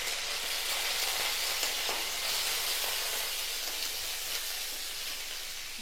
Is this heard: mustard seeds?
yes